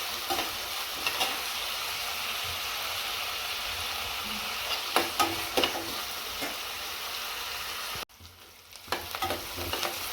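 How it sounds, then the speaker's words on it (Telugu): Onions frying in a pan until browned, a steady close sizzle with scattered stirring scrapes and clicks, briefly dropping out near the end before resuming, with no talk. "ఉల్లిగడ్డ కొంచెం వేగిందండి బ్రౌన్ కలర్ వచ్చింది"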